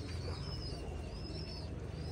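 Pigeons in a loft give soft, continuous cooing over a low background murmur, several birds calling close together.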